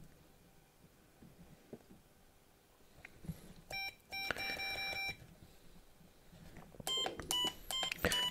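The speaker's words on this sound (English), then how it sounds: "And yes, I also added this annoying buzzer underneath." An electronic buzzer on an Artillery Sidewinder X2 3D printer beeps in short bursts, two clusters of sharp tonal beeps separated by quiet background hum.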